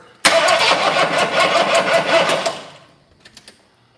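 An engine cranks with a loud whirring burst and sputters for about two seconds before dying away, followed by a few faint clicks.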